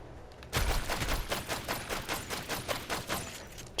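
Rapid weapon fire from the top-down twin-stick shooter Killsquad on PS5 bursts in after a brief pause and rattles on in a dense, loud stream of shots.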